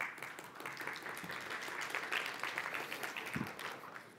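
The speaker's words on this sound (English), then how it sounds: "That's why the applause comes." Audience applause fills a C++ programming conference keynote hall as a dense, steady patter of many hands clapping from a distance, fairly quiet and continuous throughout.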